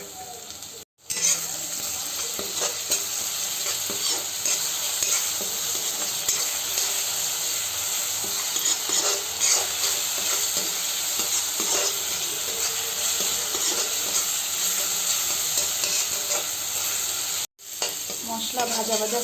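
Spices sizzle and fry in a pan for egg masala curry while being stirred, a steady close crackling hiss with scraping stirs throughout, broken by two brief silent gaps.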